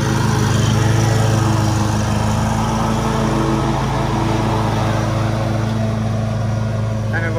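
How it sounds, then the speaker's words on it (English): A lawn mower engine runs steadily and loudly close by, a constant droning hum cutting an overgrown residential lawn with no breaks. "I'm gonna go mow the other one."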